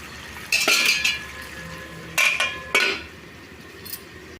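A metal lid clanks onto a pan of bottle gourd curry on the stove in a few short clattering bursts, close and fairly loud, with quiet gaps between.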